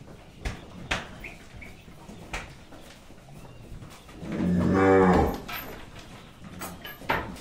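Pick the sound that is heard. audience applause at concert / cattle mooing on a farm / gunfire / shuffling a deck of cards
cattle mooing on a farm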